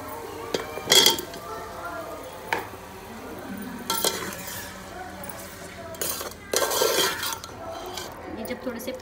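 Cauliflower stalks and potatoes tipped into a pan of frying spice mix, with several sharp clattering bursts of a spoon stirring against the pan over a soft background sizzle.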